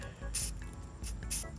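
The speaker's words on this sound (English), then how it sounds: "I'm going to just gently mist this salt to get it coated with the black" Black primer misted from a spray can onto salt on a model railroad piece, short gentle hissing bursts in a quick repeating rhythm, close and soft.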